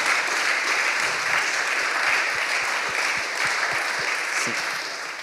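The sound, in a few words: audience applause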